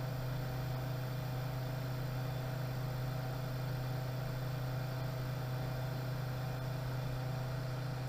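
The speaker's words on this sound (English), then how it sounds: "let you observe the actual noise the pump is making." A variable speed pool pump running steadily with a low, constant hum and a soft motor whine, unchanging and fairly quiet, with no talking.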